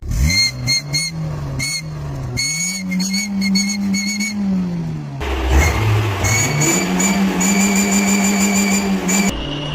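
A double-pipe exhaust whistle on a revving car sounds loud and close, a steady piercing tone that rises and falls with the throttle over a constant engine drone.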